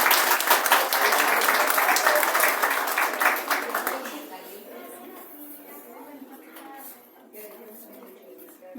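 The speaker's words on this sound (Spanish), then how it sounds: "aquí a nuestra compañera Ana, le damos un aplauso" An audience applauds a speaker named Ana at a book presentation for a special handmade edition, with dense clapping for about four seconds that fades into scattered claps and quiet murmuring.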